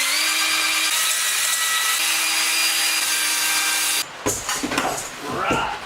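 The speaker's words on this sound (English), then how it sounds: "I got the hone over here, gonna lube it up a little bit and just clean it out." A drill-driven cylinder hone works the cylinders of a race engine block for a turbo Thunderbird. It runs with a steady high whir for about four seconds, then stops, and scraping and handling noises follow.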